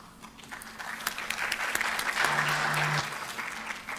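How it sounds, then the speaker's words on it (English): Audience applause at a university undergraduate open house, a steady crowd of clapping that swells and holds through the middle, then tapers off near the end. "Thank you for the applause."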